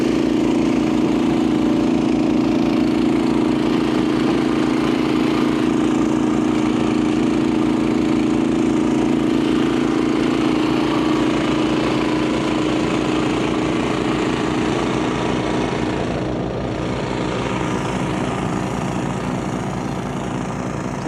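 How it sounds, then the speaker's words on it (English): A Honda HSS1332 ATD snowblower runs steadily with no one at the controls, its engine droning loud and close in an unbroken, even hum for the whole stretch. "there's no one operating the snowblower yet it's still doing its job"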